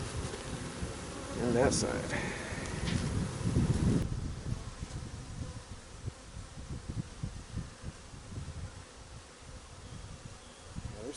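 Honey bees buzz around an open hive during an inspection, a dense, continuous drone close to the microphone, with someone speaking briefly over it early on and light handling rustles.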